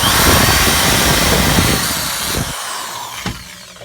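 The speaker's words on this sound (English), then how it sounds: "hold it in place while I drill holes" A loud power drill whirs steadily up close while drilling holes during a Peterbilt 359 exhaust install, then winds down and stops, leaving a short clunk and faint rattling afterward.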